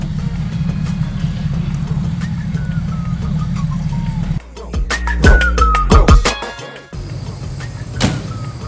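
A 1932 Ford hot rod V8 engine idles with a low rumble, then revs loudly in a few sharp bursts before settling back to a steady idle.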